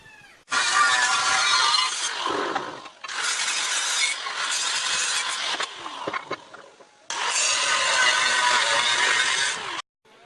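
Metal table brackets for a BBQ smoker cook station being cut with a power tool, loud bursts of harsh grinding in several long runs separated by short pauses.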